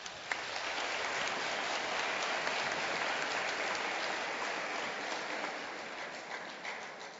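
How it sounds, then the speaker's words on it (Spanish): Sustained, dense applause from a large audience fills the National Assembly chamber, steady and even for several seconds before thinning slightly at the end. "Un aplauso para ellos, por favor."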